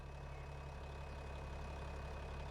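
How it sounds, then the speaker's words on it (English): A Case 2470 Traction King tractor in Farming Simulator 25, discing corn stalks, drones at a steady low idle with a deep constant rumble and a faint high whine, no voices. "The Case 2470 Traction King tractor."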